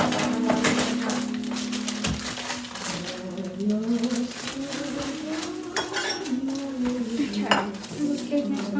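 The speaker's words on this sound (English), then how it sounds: "So we're gonna open up the cake. I'll open up the flour." A box of cake mix and a bag of flour are torn open in a home kitchen, with crinkling paper and plastic rustle, light clatter of utensils and a steady tone running underneath throughout.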